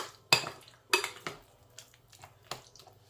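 A utensil knocks and scrapes against a pot or bowl while spice paste with papaya paste is mixed into a leg of lamb, giving a few sharp clinks followed by softer, scraping stirring sounds up close.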